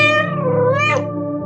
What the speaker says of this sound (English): Is this your cat?